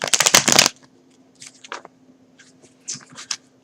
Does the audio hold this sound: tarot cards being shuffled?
yes